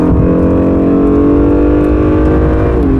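A turbocharged Acura NSX pulls hard under acceleration, its loud rising turbo whine and roar climbing steadily close up, with no voices over it.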